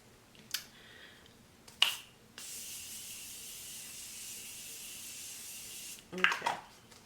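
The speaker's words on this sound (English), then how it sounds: "spray some setting spray, and I'm using the Morphe one." A Morphe makeup setting spray bottle is shaken with a few clicks, then gives one long, steady, close hissing mist lasting several seconds before a final rattle.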